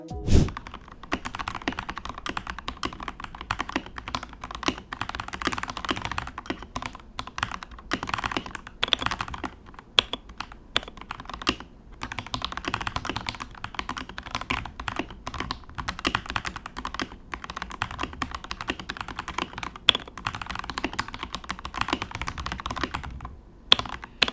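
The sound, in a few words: Kemove K98 keyboard typing test, Gateron red switches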